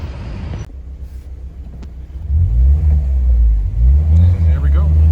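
An old BMW car engine rumbles low and pulls away as the car drives off, rising in level partway through with a couple of gentle revs, while a person talks over it at first.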